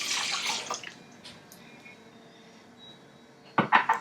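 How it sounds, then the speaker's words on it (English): Warm milk poured into a bowl with yeast for bun dough, a short splashy trickle at first, then a quiet pause and a brief burst of liquid splashing at the end. "Just pour in our warm milk,"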